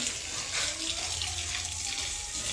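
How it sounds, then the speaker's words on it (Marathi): Water running steadily while garden plants are watered at home, a continuous close rushing flow like an open tap or hose, even in level throughout. "सगळे झाडांना छानपैकी पाणी देऊन झालेले आता"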